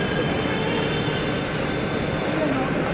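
A metro train near Cubbon Park in Bengaluru gives a steady, moderate rumble of running carriages, continuous and even with no voices standing out.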